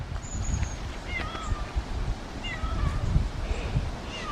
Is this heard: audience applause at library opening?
no